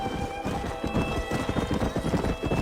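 Horse hooves clip-clop in a quick, steady rhythm on a dirt path in the Western video game Red Dead Redemption, close and prominent, with a brief whinny near the start and no talking.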